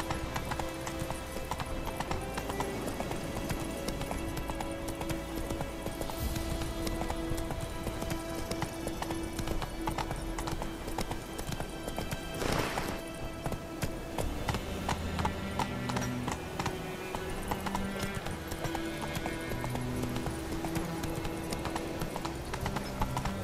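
Hooves of a horse clip-clop steadily in The Witcher 3 on PS5, a continuous galloping rhythm over game music, with an occasional brief whinny.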